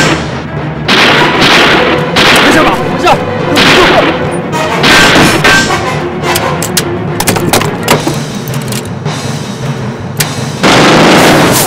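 A shootout in a Chinese drama erupts in loud, dense gunfire, with sharp irregular bursts of shots and impacts that come close together and last throughout.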